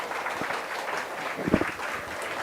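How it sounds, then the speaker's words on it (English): Applause from an audience at an International Women's Day conference in a hall, a steady wash of clapping lasting a couple of seconds at moderate level with a slightly louder burst near the middle. "Give every woman who is here and who is not here a big applause."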